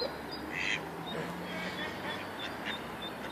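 A swan at Lancaster University calls with a few short nasal honks over steady outdoor background noise, fairly faint and spaced apart.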